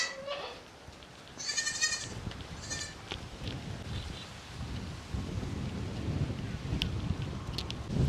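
A goat bleats a few times early on, followed by a low rumbling, rain-like noise.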